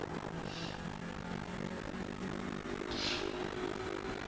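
Audi TCR race car engine at full throttle in iRacing, a steady loud droning roar with a sustained buzzy tone, continuous and close with no talk.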